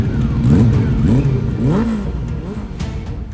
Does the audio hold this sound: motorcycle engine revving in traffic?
yes